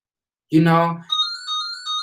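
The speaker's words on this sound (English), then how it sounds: "Sign, the phone is ringing." A phone rings with a bright, repeating electronic ringtone in a clean, quiet room. A short harmonic vocal sound comes just before the first ring.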